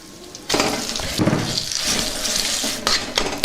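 Amla pickle being mixed by hand in a bowl, a continuous close scraping and rubbing with soft clinks and wet shuffling, no voices.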